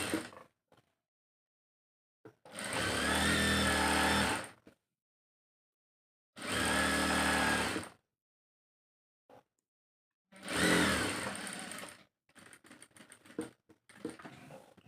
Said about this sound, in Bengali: এই যে দেখেন ফিতা কিভাবে সেলাই করবেন।